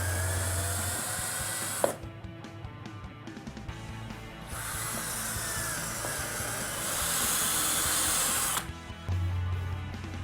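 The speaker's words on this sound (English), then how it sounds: "Pre-drill the holes using a 1/8 drill bit." A power drill with a 1/8 drill bit pre-drills holes for a door closer installation. The motor whines in close, sustained bursts, with short pauses between holes.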